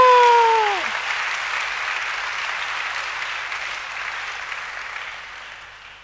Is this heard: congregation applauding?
yes